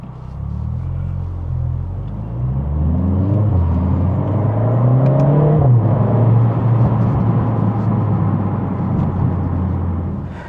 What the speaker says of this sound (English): Shut the valves there, you can hear a little bit of a difference in that exhaust.